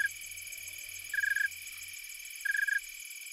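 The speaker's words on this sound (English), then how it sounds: "The calls of katydids, crickets, and snowy tree crickets fill the air." Insects calling at a beaver pond in the late-summer night: a dense high continuous trill, with buzzy raspy bursts repeating in a regular rhythm and a soft low pulsing beneath.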